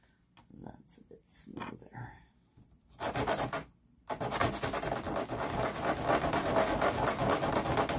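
Sandpaper rubbing against a small wooden dollhouse bed, heard close up. A soft, uneven scratching at first grows into a steady, continuous abrasive hiss in the second half.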